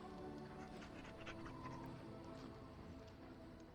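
A dog companion in the video game Dragon Age Origins pants steadily and rapidly for several seconds, a close, even breathing rhythm over a constant bed of game ambience.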